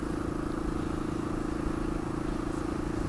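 A Royal Enfield Classic 500 single-cylinder motorcycle runs with a steady, low thumping exhaust note, a continuous even drone that sits close and stays unbroken.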